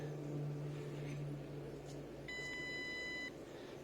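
A short electronic beep of stacked steady tones from a wireless Bluetooth meat thermometer, a little over a second long, rings out over a low constant hum and background noise.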